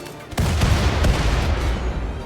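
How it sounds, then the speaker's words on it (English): Gunfire aimed at mini turrets in a RimWorld battle pops in a short volley of several quick blasts, dense and booming, with low rumble filling the gaps and no talk heard. "he's shooting at probably one of the mini turrets"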